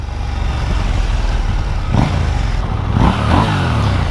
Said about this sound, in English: I'm pretty impressed with how quick KTM bikes rev up